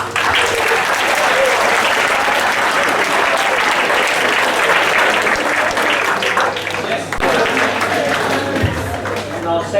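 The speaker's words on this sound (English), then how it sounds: "So I think we deserve a good round of applause" A quiz audience breaks into a loud, sustained round of applause at an inter-house heritage quiz, dense clapping filling the whole stretch without pause and only softening slightly near the end.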